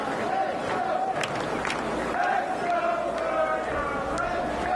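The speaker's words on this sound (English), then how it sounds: "the hometown crowd is cheering on Berger" Raucous hometown gallery at a PGA Tour golf event cheering for player Berger, steady dense crowd noise with chanting voices and scattered shouts, sustained and fairly loud throughout.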